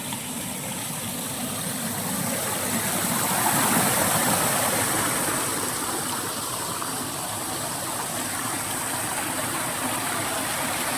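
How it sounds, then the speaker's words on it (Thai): Tat Ton waterfall in Nong Sung, Mukdahan, pours in a continuous loud, broad rushing roar of falling water that swells slightly midway, with no voices. "อยู่บริเวณน้ำตกตาดโตนครับ น้ำไหลลงหูครับ"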